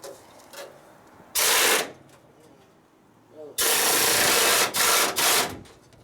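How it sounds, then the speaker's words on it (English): Hand tools at work on the underside of a 1958 Ford F100 pickup, with two loud, broad hissing bursts like an air tool or spray, the second lasting over a second with brief pulses, and people talking between them. "Use a wrench."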